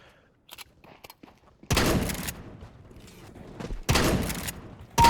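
Shotgun blasts in Counter-Strike: Global Offensive, two loud booming shots a couple of seconds apart, with quieter footsteps and game clatter between them.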